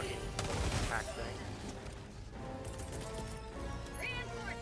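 Rapid bursts of weapon gunfire in the Helldivers video game crackle over a busy, noisy battle mix, with chaotic layered shots throughout.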